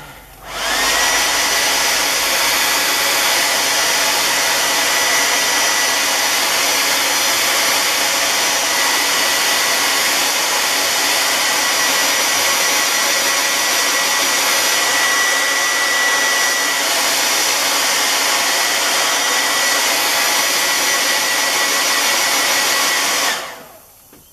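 A hair dryer dries paint on a stencil, blowing a loud, steady, continuous whir for about 24 seconds before cutting off, with no other sounds.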